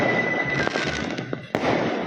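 Fireworks and firecrackers go off at a 2024 Lunar New Year street celebration in Vietnam. Dense crackling and booming continue throughout, with one sharp nearby bang among the steady roar.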